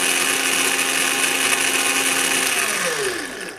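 Small old electric drill motor from 1983 spinning at about 640 rpm during a tachometer test with a multimeter, a loud steady whine that slows and drops in pitch as it winds down at the end.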